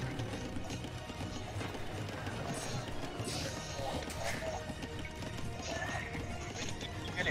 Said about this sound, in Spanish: Se viene con caballos